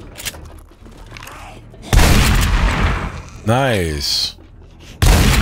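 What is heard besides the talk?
shotgun firing in 7 Days to Die video game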